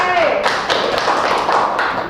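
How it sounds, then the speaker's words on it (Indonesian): A class of children claps for a classmate, a dense burst of quick, scattered hand claps lasting about two seconds, with a brief voice at the start. "tepuk tangan juga buat Mbak Upe"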